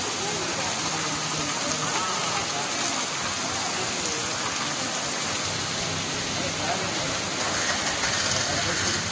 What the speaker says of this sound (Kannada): ಬಿಟ್ಟು ಬಿಡದೆ ಸುರಿತಾ ಇರುವಂತಹ ಮಳೆಗೆ ಜನ ಹೈರಾಣಾಗಿದ್ದಾರೆ.